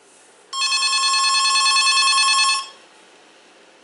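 A Lenoxx Sound PH-543 telephone rings once in a single burst of about two seconds, bright and buzzy, close and clear against a quiet room.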